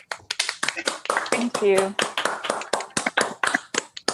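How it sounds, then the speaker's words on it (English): Participants on an online video call clap their hands in a round of applause, a quick uneven run of sharp claps with someone speaking briefly midway through. "whoever can unmute and go do a round of applause"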